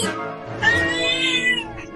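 A cartoon cat lets out a single drawn-out, wavering meow, loud and close, lasting a couple of seconds with no talk around it.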